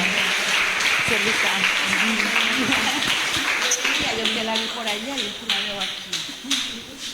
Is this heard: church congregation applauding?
yes